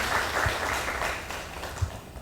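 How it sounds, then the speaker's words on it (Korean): Audience applause at a Guro social welfare forum, a faint, dense patter of many hands clapping from across the hall, fading slightly toward the end. "다시 한번 박수 부탁드립니다."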